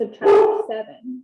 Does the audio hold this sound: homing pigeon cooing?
no